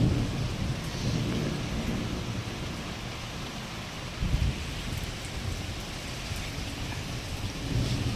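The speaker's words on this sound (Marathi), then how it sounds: "तुम्ही विजा पण पाहू शकतात कशा जोरामध्ये वाजत आहेत." A thunderstorm with unseasonal rain: steady heavy rain pours throughout while low thunder rumbles underneath, with a brief louder crack midway and another swell near the end. No voices.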